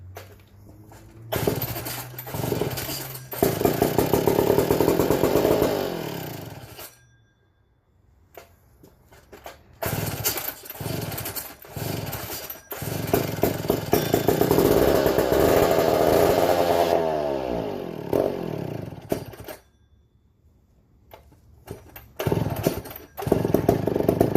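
A McCulloch 1-50 chainsaw engine with a carburettor that takes fuel poorly runs in bursts, revving loud and dropping away, cutting out twice into near silence before restarting and sputtering back up.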